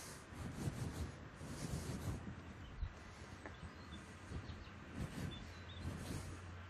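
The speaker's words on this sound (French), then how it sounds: "il faut du jambon de Bayonne bien épais que l'on va couper en gros cubes" A knife works through thick Bayonne ham, cutting it into large cubes for Basque-style stuffed squid, with quiet, repeated rubbing and sawing strokes against a board. The sounds are close but soft, with no speech.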